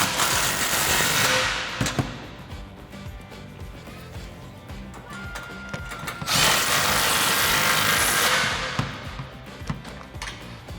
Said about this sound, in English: Now I'm going to take my 15 millimeter on my 3/8 gun